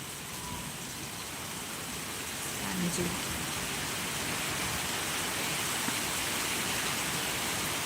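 Wind and rain on a live vlog outdoors make a broad, constant hiss that thickens slightly partway through, with steady wash and no distinct drops or voices standing out.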